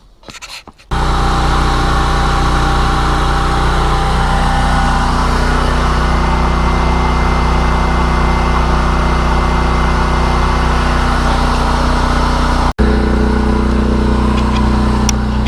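A generator runs inside a ventilated Suncast home storage shed box with its exhaust fan on, giving a loud, steady mechanical drone that holds unchanged for the whole stretch, with one brief dip near the end.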